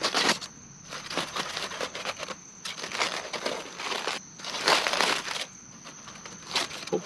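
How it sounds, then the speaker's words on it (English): Aluminum foil packets of cooked potatoes being ripped open at a lakeside truck campsite, giving several bursts of crinkling, crackling foil over about seven seconds, fairly close and moderately loud with brief pauses between tears. "Let's rip them open. And I'll just eat them right out of the aluminum foil."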